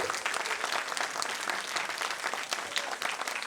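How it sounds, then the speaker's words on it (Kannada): An audience claps steadily for very young girls after their first dance performance at a dance school's stage show, a dense, even burst of applause throughout with no speech. "ಮಂದಿರದ ಅತಿ ಪುಟ್ಟ ಕಲಾವಿದೆಯರಿಗೆ ಮತ್ತೊಮ್ಮೆ ಜೋರಾದ ಚಪ್ಪಾಳೆ ಬರಬೇಕು."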